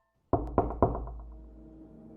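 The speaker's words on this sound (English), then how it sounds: "there was a knock at the front door" Three sharp knocks land on a front door in quick succession, close and loud after a moment of silence, each ringing briefly before fading into a low resonant tail.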